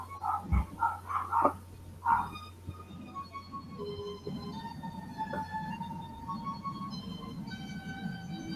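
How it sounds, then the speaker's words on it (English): Several dogs bark in a quick run of sharp, fairly close barks during the first couple of seconds, then the barking stops and a steady, fainter background remains. "Dogs are going crazy."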